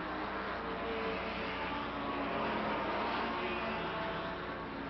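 Racing engines from the 1957 German Grand Prix, a Formula 2 Cooper trailing the pack, form a continuous, fairly distant drone with little change in level throughout.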